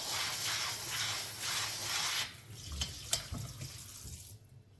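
Tap water runs steadily into a kitchen sink while vegetables are rinsed for moo shu pork. The stream stops partway, leaving light clatter and handling noises.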